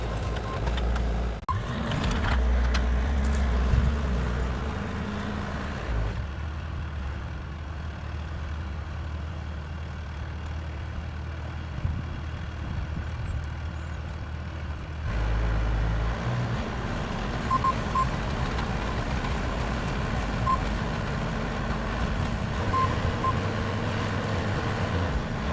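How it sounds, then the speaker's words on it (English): A Bobcat skid steer with a digger attachment digging foundation holes for a greenhouse produces a low, continuous diesel engine rumble that shifts in load at a couple of points, heard from a moderate distance with no talking. "They're using that the Bobcat skid steer with that digger"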